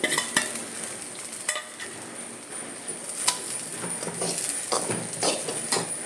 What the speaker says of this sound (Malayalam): നമുക്ക് നല്ലോണം ഇളക്കി യോജിപ്പിക്കാം.